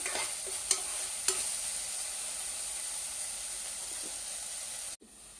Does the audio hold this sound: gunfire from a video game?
no